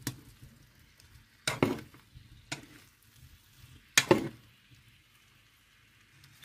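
A spoon scrapes and stirs chicken, mango and mint in a sizzling pan, four distinct loud stirring bursts separated by quieter stretches of faint frying.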